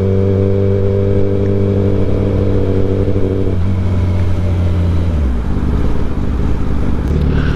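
A fast, loud motorcycle engine drones steadily while riding, then drops in pitch twice as the bike slows, heard close and continuous with no talking.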